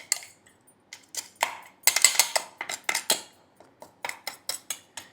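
Sesame seed laddu mixture is stirred in a bowl, a spoon clinking and scraping against the sides in uneven bursts, close and fairly loud with no talking.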